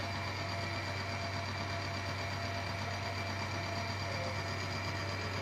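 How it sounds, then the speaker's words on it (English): An engine treated with Polytron MTC additive runs steadily under load during a friction test, a constant droning hum with a low fundamental and a busy mechanical whir, unchanging throughout. "Now let us see what happens when we put pressure on the engine now."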